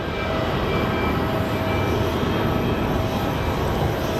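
A jet airliner climbs steeply away from Geneva Airport on departure, its engines producing a loud, steady broadband roar that holds constant throughout.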